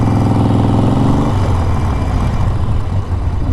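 Harley-Davidson motorcycle engine running close by, a loud, low, steady rumble that shifts in pitch partway through with no voices.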